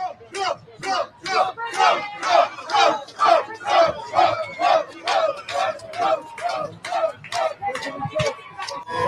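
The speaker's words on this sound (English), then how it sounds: "it's like a rally broke out when you see the crowd outside the store when they found out Trump was there" Crowd outside a Manhattan store shouting and chanting in loud rhythmic bursts, a rally-like roar that rises and falls steadily from start to finish.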